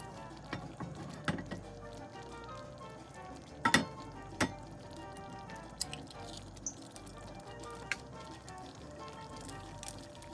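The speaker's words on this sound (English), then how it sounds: "I'm also making a fried egg." An egg fries in a pan beside leftover picadillo, giving a soft, steady sizzle broken by scattered sharp clicks and taps of a utensil, fairly quiet and with no one talking.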